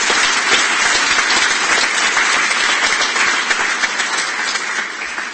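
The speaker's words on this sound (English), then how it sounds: "give them all a round of applause" A conference audience at a national event on sport and mental health gives the guest speakers a long round of applause. The clapping is dense and even throughout and eases slightly at the close.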